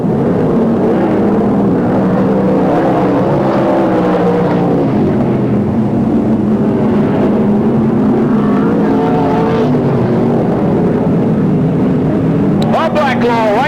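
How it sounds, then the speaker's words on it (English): Sprint cars race on a speedway track at night during a main event in the 1983/84 season, the leader powering out of turn 4 and accelerating into turn 1. A loud, continuous roaring engine drone rises and falls, with a race announcer talking over it. "Bob Blacklaw, race leader in tonight's Sprintcar main. Heads off turn 4 and accelerates down into turn 1."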